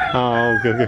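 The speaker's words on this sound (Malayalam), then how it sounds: "കോഴിയുടെ ശബ്ദം കേൾക്കുന്നുണ്ടാവും" A rooster crows once, loud and close, in a small village inside Kuala Lumpur city; the call is brief and harmonic, with a short spoken remark alongside.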